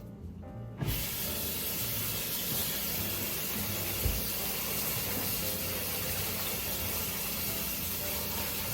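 Running water pours into a bowl to rinse fresh basil, a steady hissing splash that starts abruptly after a moment of quiet and continues evenly with one brief knock.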